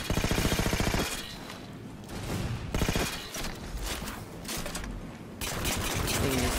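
Heavy-recoil gun in Halo 5 firing in a video game, loud close rapid bursts broken by short pauses, with other battle noise between volleys.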